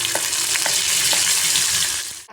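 Cumin, curry leaves and asafoetida sizzle in hot oil for a Marathi phodni tempering, a close, continuous frying hiss with small pops and a stirring clink near the end.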